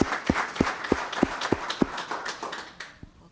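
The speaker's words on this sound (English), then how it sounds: "Let's give him a round of applause." Applause at a town council meeting in Los Gatos, sparse and fairly faint, with single claps coming in a steady, evenly spaced rhythm before fading out.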